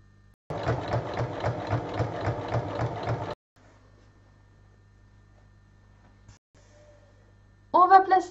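A domestic sewing machine running a straight line of stitches along folded fabric for a tote bag, a steady rapid mechanical clatter lasting about three seconds, then quiet, then a voice briefly speaking.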